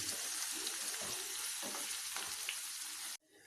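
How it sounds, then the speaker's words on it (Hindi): Crushed red chili sizzles and fries in hot oil for a tadka for watercress curry, a steady loud crackling hiss that runs on, then cuts off abruptly near the end. "तो अब हम इसको भून लेंगे ऑयल में"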